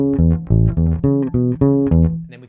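Bass guitar plays the Bach cello suite prelude bass line reshaped into a repeating three-beat riff, close and loud, with a steady cycle of plucked notes and no talking.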